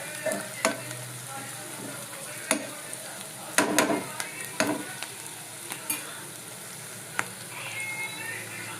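Onions frying in a pan for a home-cooked curry, with a steady low sizzle under scattered sharp clicks and scrapes of stirring, moderately close and fairly quiet, with no talk.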